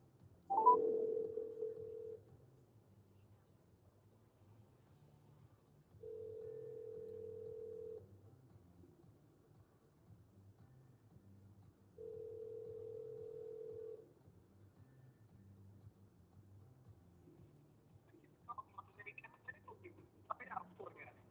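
A telephone call to a cafe rings out three times as faint, even tones about two seconds long, separated by quiet gaps, before a distant voice briefly answers over the line.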